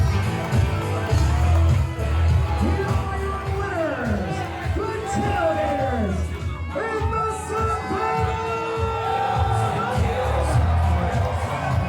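A wrestling crowd at a tailgate-themed event roars and whoops in a dense, loud wash of shouting and cheering voices that rises and swells over twelve seconds, with individual yells cutting through.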